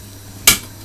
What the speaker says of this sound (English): Open the tin.